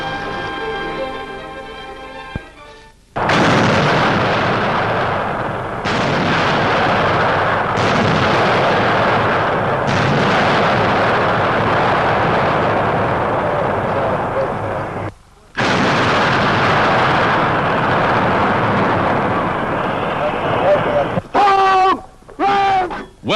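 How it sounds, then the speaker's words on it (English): Heavy 240mm howitzers fire from concealed field positions, giving long, loud, booming blasts that roll on for seconds, with short breaks between shots and a brief voice near the end. "In the field, artillerymen test the powerful new 240mm howitzers, some of the heaviest weapons in service."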